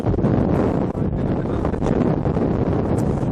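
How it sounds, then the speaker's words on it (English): Strong wind buffets a microphone while walking along the Dales Way near a quarry, a loud, continuous roaring rumble with no speech. "Oh God, it's windy here."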